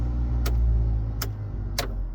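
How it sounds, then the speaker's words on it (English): A blower fan motor in a 1992 Ford F-150 truck hums steadily and quietly up close, with three brief sharp clicks or knocks spaced across the steady whir and no one talking. "It's the fan blower motor. So it's working."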